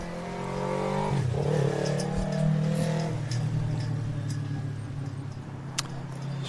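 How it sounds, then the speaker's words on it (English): Steady traffic noise from a busy road beside a lawn bowls green during a state championship match, with a car engine revving and droning past, continuous and fairly close. "Sorry about the road noise"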